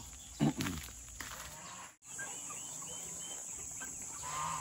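Hungry chickens clucking at feeding time on a small farm: a few brief, fairly loud clucks near the start, then a steady outdoor background with faint, scattered bird sounds.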